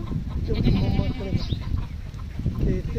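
A pregnant goat bleats close by amid other livestock, the calls mixed with overlapping people talking nearby.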